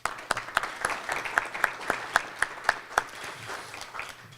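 Guests at a chamber of commerce nonprofit showcase applaud a county commissioner, a fairly quiet ripple of many hands with a few louder sharp claps at a regular pace rising out of it.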